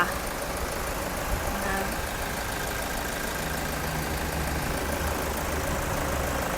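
A 2015 Toyota Commuter van with a 3.0 D4D diesel engine idling, a steady, even mechanical hum with no revving, heard close and continuous throughout.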